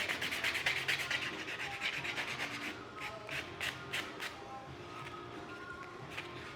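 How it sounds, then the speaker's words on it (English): Dip powder nails being buffed with a handheld nail buffer, a steady close scratchy rubbing that runs continuously, strongest at first and then continuing in short repeated strokes. "I do want to get a little bit more buffing on this side because I just feel like it's thick."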